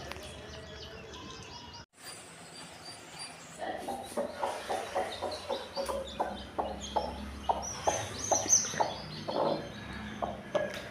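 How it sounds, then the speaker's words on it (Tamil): After a brief pause, a hen clucks repeatedly in a steady series of short, close calls on a rural Tamil farm, with faint chirps from other birds in the background. "இப்போ இன்னொரு கோழியும் சத்தம் வருது."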